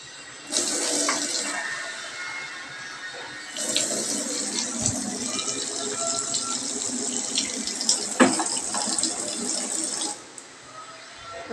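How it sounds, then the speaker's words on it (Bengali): Water pours steadily into a pot of cooking rice in a home kitchen, a continuous close hiss and splash lasting around ten seconds, then cutting off. "ভাতে জল দেওয়া হয়ে গেছে"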